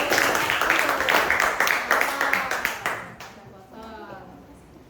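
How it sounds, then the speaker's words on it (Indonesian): Primary-school children in a fourth-grade Indonesian classroom break into lively group clapping, dense and loud at first, then thinning out and fading near the end. "Tepuk tangan untuk Mas Tino."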